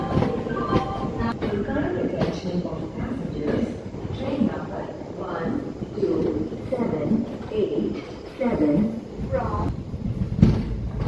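A passenger train running on the line just after leaving Purna junction, on the Akola to Parli route, gives a steady rolling rumble with rhythmic wheel knocks throughout, and voices are heard over the noise.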